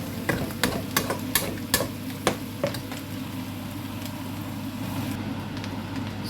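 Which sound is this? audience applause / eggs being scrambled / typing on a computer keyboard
eggs being scrambled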